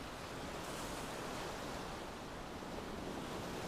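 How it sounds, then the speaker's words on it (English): Ocean waves wash gently over a beach at dusk in a steady, soft roar of surf with a little wind, even and continuous, with no voices. "The waves are washing in, gently washing over the beach, and then flowing back out again."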